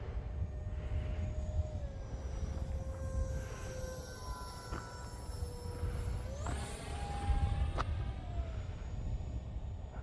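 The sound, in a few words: RC model A-4 Skyhawk jet flying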